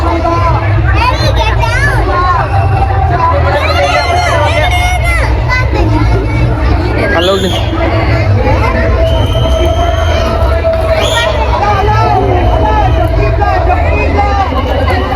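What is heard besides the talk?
festival crowd at Shivaratri celebration in park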